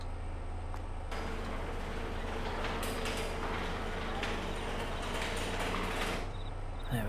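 Barn shutters rolling shut in Farming Simulator 22, a steady mechanical sliding rumble with ratcheting clatter that runs for several seconds against constant background farm ambience.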